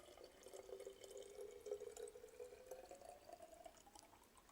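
Water poured into a flask in a chemistry class demonstration, a steady close trickle of liquid running for several seconds with a slowly rising pitch as the vessel fills, no talk.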